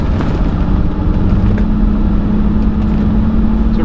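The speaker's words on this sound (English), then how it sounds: "Now we're gonna do a bit of a highway" A 1999 Rolls-Royce Silver Seraph cruising on a highway, with a steady broadband rumble of engine, tyres and wind noise inside the car, continuous and fairly loud with no talking.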